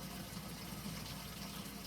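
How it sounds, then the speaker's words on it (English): Water pours steadily into a brewing pot for homebrew fermentation, a faint, even rushing gush with no pauses. "So you fill it back up with water"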